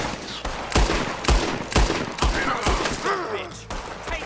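Rapid gunfire in Red Dead Redemption 2 at Castor's Ridge, with loud, sharp shots cracking about every half second amid a dense battle din, plus faint voices and whistling tones near the end.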